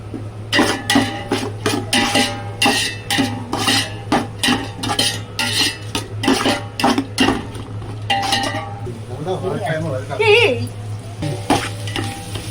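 Onions sizzle and fry in a pan for home-style biryani while a utensil stirs and scrapes in steady repeated strokes, with occasional clinks of metal against the pan, close and fairly loud.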